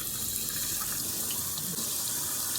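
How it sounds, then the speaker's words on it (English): Cold tap water runs steadily into a kitchen strainer as blueberries are rinsed, a continuous broadband hiss and splash that stays even and close throughout. "putting them in my strainer, cold water,"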